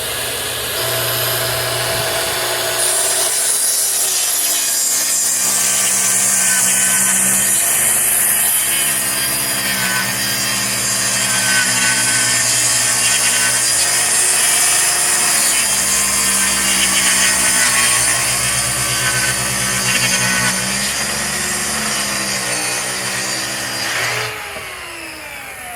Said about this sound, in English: Always start your saw back off your work.